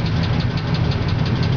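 A 1977 Oldsmobile Cutlass Supreme Brougham engine running, a loud, steady, close low rumble with a faint rhythmic knock, no voices.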